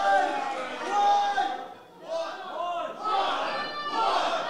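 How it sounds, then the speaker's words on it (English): A wrestling crowd in Warehouse 635 chants in loud repeated waves that echo through the room, with several rising swells of voices. "You hear those chants of one reverberate through Warehouse 635."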